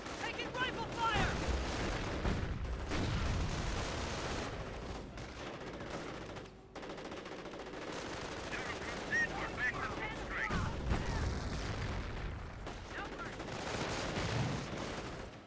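Rifle fire and battle noise in Company of Heroes, a continuous clatter of shots, machine-gun bursts and distant blasts rolling on for several seconds, with a voice talking over the fighting.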